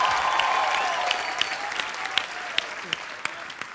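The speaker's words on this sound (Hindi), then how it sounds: "एक बार जोरदार तालियां हो जाए" A studio audience applauds on a comedy show, a broad steady wash of clapping that gradually thins toward the end, with a few sharper individual claps standing out.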